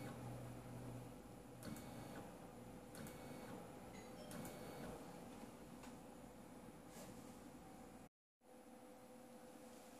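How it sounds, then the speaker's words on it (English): A RepRap Prusa i3 3D printer moves its Z-axis down 1 mm with a faint, steady motor whir and hum, plus a few soft ticks, ending in a brief dropout of near silence. "So I'm going to move the Z-axis down 1 millimeter."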